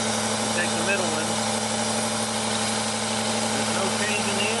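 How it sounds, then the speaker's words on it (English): Engine idling with a misfire, running steadily and loud throughout with a constant low hum and slight rough unevenness, close by and without any talk over it. "Now you can hear the engine misfiring."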